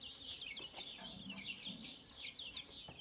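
Mixed-breed chicks cheep in a rapid, continuous chorus of high, thin peeps, close and fairly quiet, with soft low rustling beneath.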